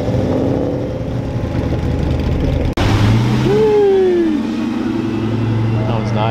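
A Ford Mustang rumbles past on a Los Angeles street, its engine a loud, steady low drone that swells as it nears, with people talking over it.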